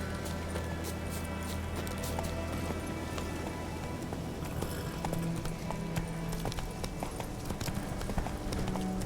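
Hooves clip-clop in a quick, steady rhythm as a horse gallops in The Witcher 3 video game, under a constant background hum, fairly faint throughout.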